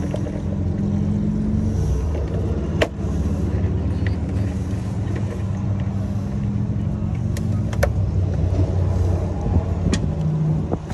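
A motorcycle engine rumbles low and continuous close by, with a few sharp clicks and knocks over the steady drone.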